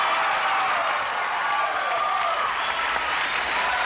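A television game show studio audience bursts into sustained, dense applause and cheering, loud and steady throughout.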